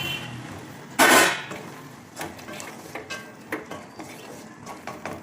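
Eggs dropped into a simmering gravy in a pan, a loud splash and clatter followed by lighter scattered clinks and bubbling, close up with no talking.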